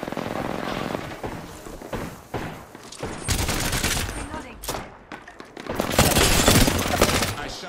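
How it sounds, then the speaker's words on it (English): Rapid gunfire in a video game firefight aimed at an enemy's shield, loud bursts of shots coming in dense clusters with short gaps between them. "I shot at an enemy shield"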